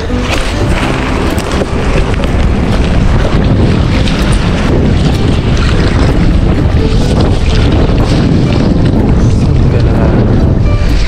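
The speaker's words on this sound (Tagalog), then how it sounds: "May kalakasan nga lang po yung hangin. Pasensya na po kayo kung medyo maingay." Loud, constant wind noise battering the microphone, with steady roaring rumble and rushing air throughout.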